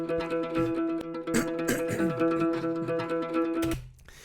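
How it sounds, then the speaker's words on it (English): A mandolin sample played inside Logic, sounding as sustained plucked notes in a steady tremolo that hold for a few seconds before cutting off, up close and with no talking. "I've made it using a mandolin sound"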